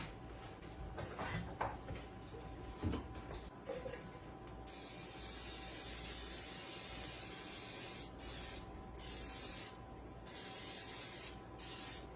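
Short hissing bursts of cooking spray coat a bundt pan, several separate sprays of about a second each with brief pauses between, close and fairly quiet.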